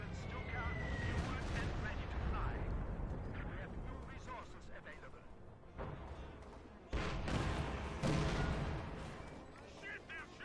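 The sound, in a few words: airstrike in video game Company of Heroes 2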